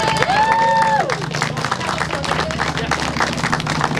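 An outdoor crowd at a camp ribbon-cutting claps and cheers for several seconds in a dense, steady patter, with a voice speaking briefly at the start.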